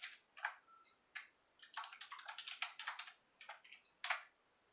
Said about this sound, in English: Let me type in my username and password.